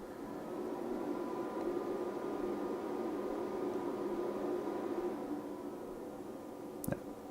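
A Rigol DP832 bench power supply running after power-on gives off a steady, fairly loud fan-like whir and hum that carries on evenly, then drops away near the end with a brief click.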